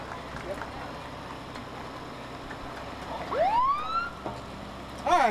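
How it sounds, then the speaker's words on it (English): A siren from an emergency services agency vehicle at a Memorial Day parade whoops up in a rising wail, then gives a short second burst, heard over the crowd's background noise and a public-address announcer. "about time we hear a siren here today"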